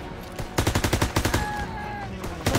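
Rapid gunfire and machine-gun bursts in the Call of Duty: WWII Stronghold mission, a loud rattling string of closely spaced shots followed by a pause and another burst, with a whining tone in between.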